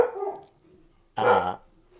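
Dogs bark in a short loud burst of several overlapping barks, following a stretch of quieter background noise, close to the microphone with no talk over it.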